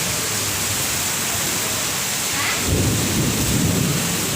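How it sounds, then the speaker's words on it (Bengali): Steady heavy rain hisses throughout, then a deep roll of thunder swells in partway through and rumbles on loudly to the end. "মুসুলধারে বৃষ্টি শুরু হয়ে গেছে ঝড় আর বৃষ্টি"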